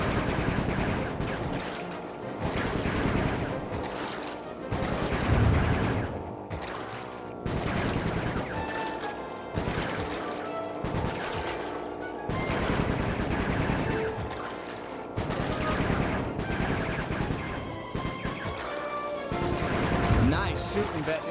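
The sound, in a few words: gunfire shooting in the video game Sly 3: Honor Among Thieves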